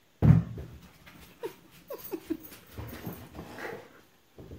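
A dog whimpers in several short, soft, high whines after an initial sharp thump, with faint breathy panting between them in a quiet room.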